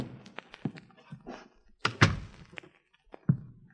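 In an old-time radio detective drama, a door swings shut with a sharp thunk midway, followed by another knock-like thump, set against quiet room tone and small shuffling sounds.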